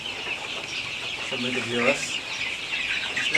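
Sonali chickens cluck on a home poultry farm, a few close clucks rising over a constant hiss of farm noise and distant chirps, with a voice partly mixed in.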